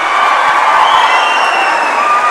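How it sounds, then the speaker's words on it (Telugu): Steady, loud applause from a large crowd at a political speech by Telangana CM Revanth Reddy about government jobs, with cheering mixed into the sustained clapping. "ఇవాళ మీరు కొడుతున్న చప్పట్ల వెనుక మీ సంతోషం మీ కుటుంబ సభ్యుల యొక్క ఆనందం"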